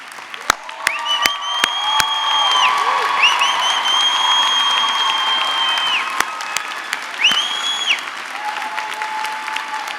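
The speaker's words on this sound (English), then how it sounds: "let's please let them rise so we can give them a round of applause" A crowd at a college graduation ceremony claps steadily and loudly for several seconds, with sharp individual claps standing out near the start and a few whistle-like tones above.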